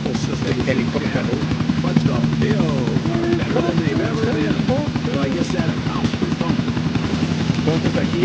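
A helicopter flying in the video game GTA 4, a steady, loud rotor-and-engine drone running continuously throughout with a pulsing low thrum and no pauses.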